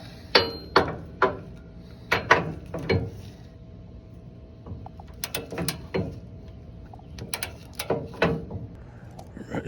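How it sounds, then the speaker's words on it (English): Torque wrench tightening bolts on an aftermarket bumper of a Ford F250 pickup, with sharp close metallic clicks in quick bursts separated by pauses and softer handling noises. "put your torque wrench, remember 85 pounds,"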